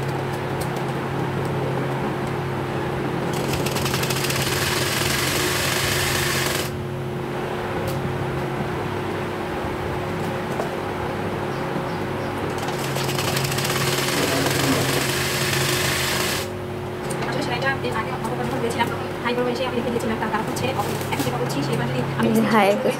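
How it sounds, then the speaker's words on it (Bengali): A sewing machine stitching fabric for palazzo pants whirs in continuous close runs with brief pauses between them, while a person talks over the stitching. "এক ইঞ্চি পরিমাণ কাপড় বাইরে রেখে সেলাই দিয়ে নিচ্ছি।"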